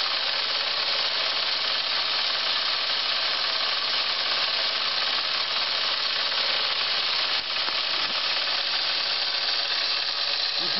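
A running steam engine vents a steady, loud broadband hiss of escaping steam, with a faint low mechanical hum beneath, continuous for the whole stretch and close by.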